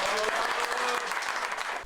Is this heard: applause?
yes